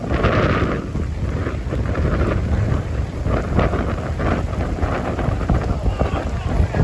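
Heavy rain pours in Manhattan at night during Hurricane Elsa, a dense, steady roar with gusts and wind buffeting the microphone, while a voice speaks faintly beneath it.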